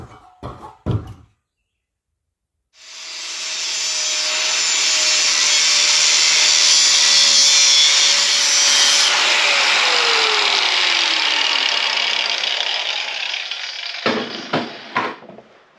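A power cutting tool spins up and cuts through material for a Starlink mounting bracket, a loud sustained whine that drops in pitch as the blade slows, with knocks and clatter before and after.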